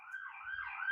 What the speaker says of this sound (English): Just an ambulance going by on Wenatchee Ave.